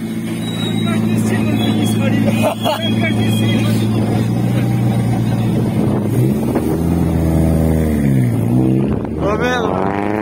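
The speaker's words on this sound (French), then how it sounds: "La première voiture de rallye." A rally car roars past during the 2021 Rallye du vin des Corbières, a loud, sustained engine drone with revving and a sharp pitch sweep near the end as it passes close, with wind buffeting the microphone throughout.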